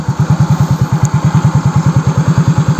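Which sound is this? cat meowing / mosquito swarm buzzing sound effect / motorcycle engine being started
motorcycle engine being started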